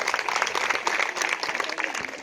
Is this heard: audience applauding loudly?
yes